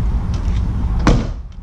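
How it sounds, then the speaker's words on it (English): A door of a 1960 Porsche 356 1600 Super, in ruby red, shuts with a single solid close-up thud about a second in, over a low rumbling background. "the doors shut nicely"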